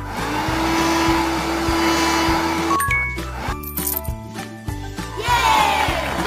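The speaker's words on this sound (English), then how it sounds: "Now vacuum the floor." A vacuum cleaner runs on the floor in a children's house-cleaning video game, a steady whirring drone for about three seconds over looping music, then it stops and bright chimes and jingles follow.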